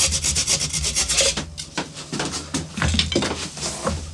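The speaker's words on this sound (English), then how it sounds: "then just chop it off using my Japanese saw" A Japanese flat saw cuts off a glued wooden hole plug on a Telecaster guitar body, giving steady close rasping strokes in an uneven back-and-forth rhythm, with no talking.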